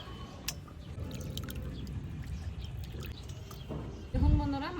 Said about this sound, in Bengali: মাছগুলো ধুয়ে নিচ্ছি।